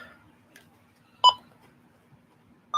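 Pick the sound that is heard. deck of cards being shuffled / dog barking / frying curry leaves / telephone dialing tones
telephone dialing tones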